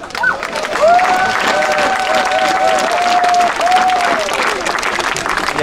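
A crowd claps and cheers at the third Pride march in Morlaix, Brittany, with steady, loud applause throughout and high whistle-like tones rising above the noise.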